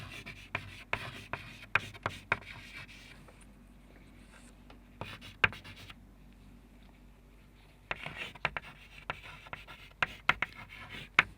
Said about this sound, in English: I'm going to write the instruction.